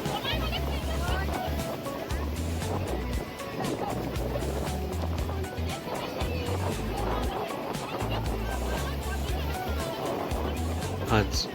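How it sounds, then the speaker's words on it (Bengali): Big sea waves rolling in at Digha beach, a steady loud broadband wash of surf with low rumbling surges throughout, voices talking over it. "জলের খুব স্রোত আর ঢেউগুলো খুব বড় বড় আসছে।"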